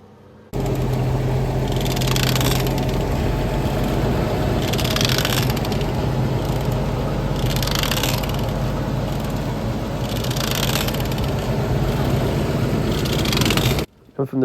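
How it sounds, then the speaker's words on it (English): A GMC truck on a road test rolls along with a noisy near-side wheel, likely the tyre, making a rhythmic whooshing thump about every two seconds over a constant low engine and road rumble. "We've had a GMC come in that's making a noise on the near side wheel"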